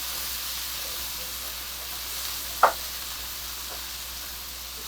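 Mushrooms and sweetcorn sauté gently in a pan for a creamy white pasta, a soft steady sizzle and hiss with one brief clack of a utensil partway through, fairly quiet and without talk.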